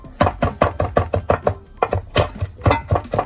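A knife chopping food on a board at a fast, steady rhythm of about four crisp knocks per second, close and loud, with no voices.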